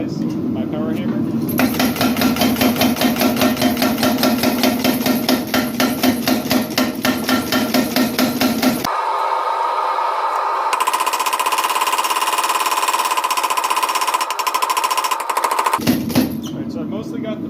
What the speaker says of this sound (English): I'm going to start by drawing this out with the round dies with my power hammer